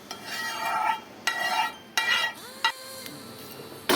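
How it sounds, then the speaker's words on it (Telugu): A spoon works a fried tempering through gongura chutney in a pan, giving several rhythmic scraping strokes that are close and fairly loud, with faint music playing underneath. "తాలింపు కూడా వేసుకుని కలుపుకుందాం."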